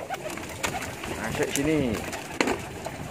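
A pigeon coos in a short rolling burst midway through, close and clear against room noise, with a person speaking briefly nearby.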